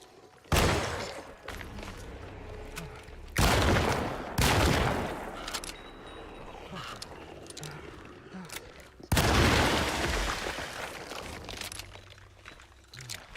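Shotgun blasts from the Alone in the Dark video game, fired at enemies: three loud, booming shots with ringing tails, spaced a few seconds apart over steady game background noise.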